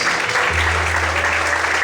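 A church congregation applauds during an evening sermon, a dense, steady wash of many hands clapping with a low hum underneath.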